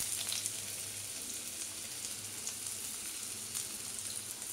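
Chopped large onion sizzling steadily in hot oil in a pan, a continuous close frying hiss with faint stirring, no talk.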